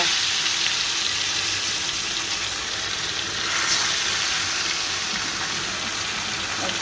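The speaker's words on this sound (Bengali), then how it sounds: "সরিষার তেল দিয়ে দিলাম একটু তেল গরম হয়ে আসলে মাছ দেব" Fish sizzles steadily in hot mustard oil in a pan, a loud, even crackling hiss that runs without a break.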